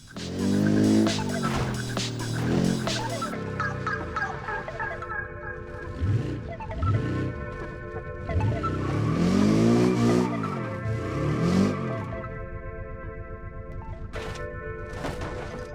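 A car from an old 2016 mod in BeamNG Drive is crash-tested: a loud engine drone with rising and falling pitch, tire skids and harsh impact crunches, close and continuous throughout.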